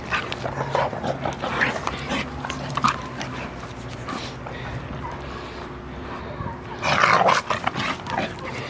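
Prissy the dog in rambunctious play, a running stream of growls, yips and barks, with louder bursts near the start and a sharp flurry toward the end, close and fairly loud over room noise.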